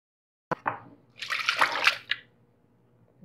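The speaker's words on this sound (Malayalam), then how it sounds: "നമുക്കിതൊരു സ്ട്രെയിനറിലേക്ക് ഒഴിച്ചു കൊടുക്കാം." A ground mixture for extracting milk pours into a strainer: two sharp knocks, then a wet, splashing pour lasting under a second with a final drip, close and quiet otherwise.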